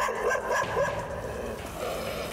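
Stray dogs bark in a rough, overlapping run of yips and woofs, fairly close and loud, over steady outdoor background noise.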